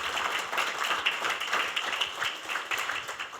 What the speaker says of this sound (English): can we again just give a round of applause for all these partners